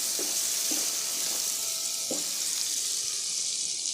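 A loud, steady sizzle of tomato and potatoes frying in a pan for an aloo shimla mirch curry, with a few soft scrapes and presses of a spoon against the pan; no talking.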